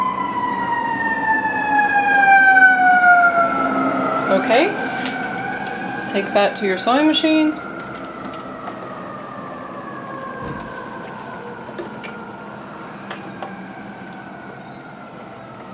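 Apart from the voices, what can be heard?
sirens in the city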